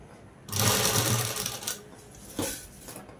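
A sewing machine stitches around the neckline of a ready-made dress in a short, loud burst, followed by a quieter stretch and one brief, sharp restart near the end.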